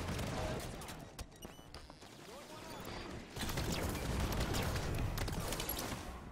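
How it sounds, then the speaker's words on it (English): Shotgun blasts in a multiplayer video game firefight: sharp, close reports landing in rapid clusters over a dense, noisy backdrop of game action, getting louder and busier midway. "Is that a blaze of glory or is it just a shotgun?"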